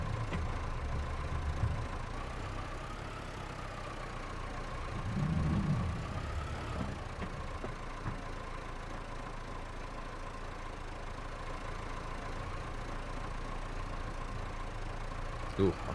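Tractor engine in Farming Simulator 22 straining under a heavy load, a steady mid-pitched drone running continuously with a brief low swell partway through, with a voice talking over it.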